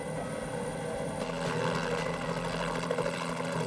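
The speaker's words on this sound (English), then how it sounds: "The state police had a chopper flying around" A state police helicopter's rotor thrum holds steady and loud throughout, a continuous pulsing drone with no voices.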